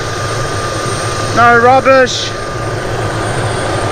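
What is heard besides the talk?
helicopter arriving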